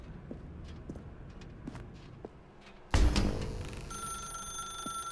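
An old-style telephone bell suddenly starts ringing loud and close in a dark room in the video game Stanley Parable Ultra Deluxe, after a few soft footsteps in quiet.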